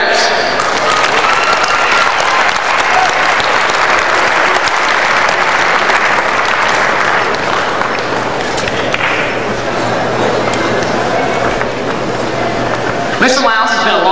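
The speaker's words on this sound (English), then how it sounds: "Ladies and gentlemen, let's give a round of applause for these winners." Audience at a 1997 state leadership conference gives a sustained, dense round of applause for award winners, loud and even throughout before cutting off near the end.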